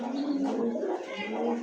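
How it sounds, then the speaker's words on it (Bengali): Pigeons at a market for fancy breeds, a low, throaty cooing that rolls on continuously and close, with no speech. "দর্শক, এই মুহূর্তে স্ক্রিনে দেখতে পাচ্ছেন দুইটা কবুতর"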